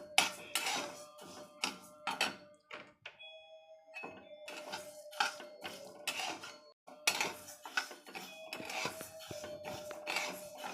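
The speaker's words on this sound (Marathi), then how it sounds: "खायला उडीद डाळ टाकून घेऊया आणि ती पण अशीच छान भाजून घ्यायची" Urad dal dry roasting in a pan, dominated by repeated clinks and scrapes of a metal spoon against the pan in bursts, with a ringing tone lingering between strokes and brief quiet gaps.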